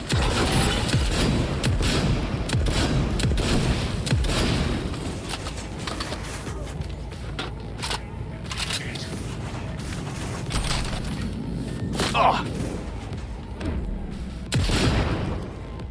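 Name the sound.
gunfire in the video game Cyberpunk 2077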